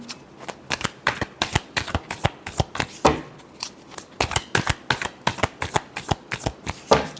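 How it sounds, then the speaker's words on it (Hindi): Tarot cards are shuffled by hand in rapid, close riffling bursts, a dense rhythmic flutter of crisp card slaps repeating steadily with brief gaps and no talk. "last shuffle,"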